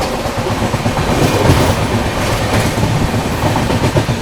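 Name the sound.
Suhaildev Superfast Express train running through Aligarh Junction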